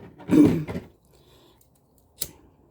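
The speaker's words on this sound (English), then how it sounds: "We are going to cut the excess" Scissors snip through excess rope on a handmade rope rosary cross, one cut close and clear followed by a second short, sharp snip after a quiet pause.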